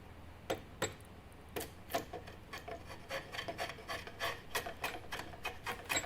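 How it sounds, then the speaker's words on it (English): A draw knife shaves wood for a spear thrower in repeated scraping strokes, each a sharp rasping pull, close and fairly quiet, spaced irregularly about every half second. "you can actually flip the draw knife and go back the opposite way away from your body"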